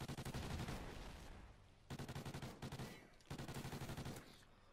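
Gunfire in a Call of Duty: Ghosts multiplayer match, with rapid automatic bursts of repeated shots in three separate volleys, loud and close, with brief pauses between.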